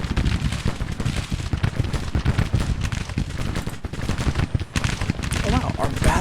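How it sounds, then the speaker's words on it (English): Artillery battery firing in a video game battle against cavalry: dense, continuous booming and crackling gunfire, loud and unbroken, with a voice talking faintly underneath. "our battery is actually firing?"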